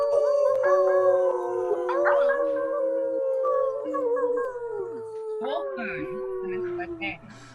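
A group of people join in imitating wolf howls at a full moon ceremony, several long rising and falling voices overlapping and sustained for most of the stretch before trailing off near the end.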